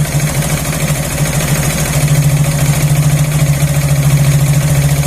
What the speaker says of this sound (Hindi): अभी और आरपीएम बढ़ाने का है फ्रेंड्स